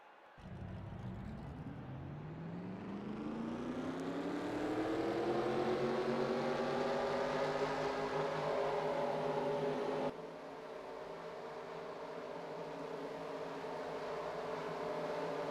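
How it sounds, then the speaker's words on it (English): Race car engines fire up in a stock car racing video game at New Hampshire, a steady layered engine drone that rises in pitch as it revs, then settles into an even idle rumble with no talking. "Drivers, start your engines!"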